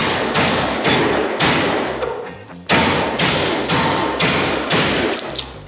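A Stonewall hammer repeatedly beating into a piece of wood to split firewood, loud heavy thuds at a steady rhythm with short ringing decays between blows, close by.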